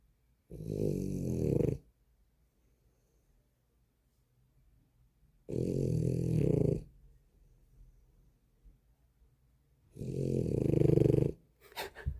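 A sleeping dog snores loudly and close up, three long rasping breaths spaced several seconds apart, with near silence between them.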